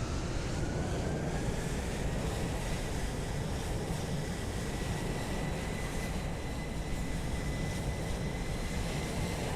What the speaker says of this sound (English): Another Ryanair.